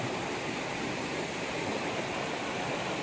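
Stream running high after Hurricane Helene at a hiking trail crossing, a steady, close rushing of water that fills the whole stretch evenly with no breaks.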